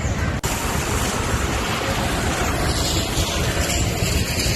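Storm-driven sea waves from Cyclone Tauktae lashing the Mumbai coast, a loud, continuous roar of surf mixed with wind buffeting the microphone, with one brief dropout near the start and no speech.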